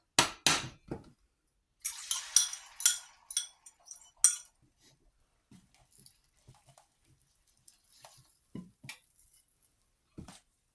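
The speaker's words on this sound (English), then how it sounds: "let's just use a little bit of coconut oil to scramble our eggs in" Eggs are scrambled in coconut oil in a still-hot pan, with sharp utensil taps and clinks against the pan in quick clusters, then sparse quieter scrapes and knocks with long gaps between them.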